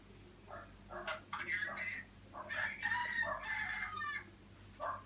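Chickens cluck in bursts, with a rooster's crowing call rising among them, fairly close over a steady low hum, with voices also audible in the mix.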